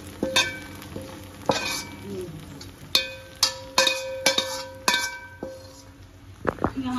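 Hot oil sizzles in a pan as fried onions go in to temper a pot of oats haleem, with sharp clinks of a metal spoon against the vessel and a steady frying hiss underneath.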